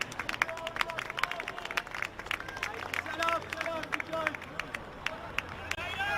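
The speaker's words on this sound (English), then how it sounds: "Applause for Aidan Munford as he gets back to his feet." Scattered applause from a football crowd at a men's NPL match between Gold Coast Knights and Lions FC, as a player gets back on his feet; claps patter steadily and fairly distant beneath a commentator's voice.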